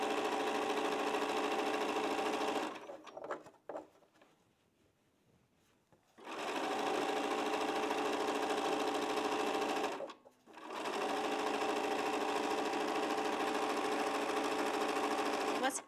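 A sewing machine sews quilt seams in three long, steady buzzing runs, with short quiet breaks between them, up close.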